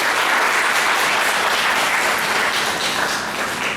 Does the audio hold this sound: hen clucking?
no